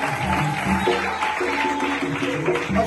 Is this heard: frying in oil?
no